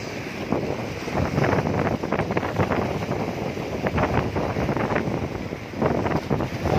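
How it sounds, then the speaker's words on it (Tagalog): Strong wind roars and buffets the microphone continuously, with gusty swells in loudness and no voices. "Lakas na ng hangin guys."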